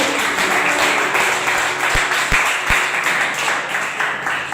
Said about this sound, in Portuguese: Quem pode aplaudir a Ele, dar glória a Ele